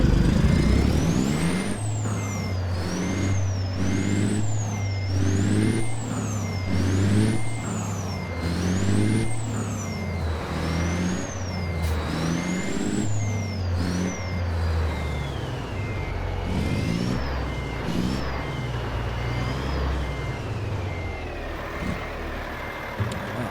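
A big rig in American Truck Simulator rumbles with a steady low diesel drone, punctuated by repeated sharp hisses of air brakes and a rising and falling engine whine as it maneuvers, loud and close throughout with no talking.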